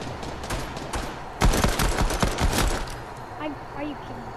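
Gunfire in the Fortnite video game: a rapid cluster of shots bursts out in the middle of the clip over a busy game background, with faint voices around it.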